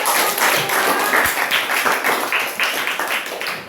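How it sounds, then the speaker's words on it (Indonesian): A classroom full of students claps enthusiastically, a dense, steady burst of applause that tapers slightly toward the end. "Ya, tepuk tangan."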